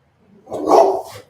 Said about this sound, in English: he's barking at the birds that come every day